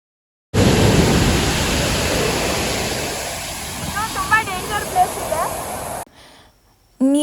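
Water rushing over the spillway falls at Bhadra dam, heard from a distance as a loud, steady broadband roar that fills the clip, fading away near the end.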